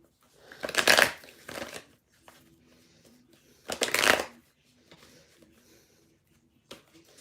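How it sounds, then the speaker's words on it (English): Tarot cards are shuffled in two loud riffling bursts a few seconds apart, followed by softer shifting and a faint tap as cards are pulled, close to the microphone. "let me just pull some cards and see what's coming up"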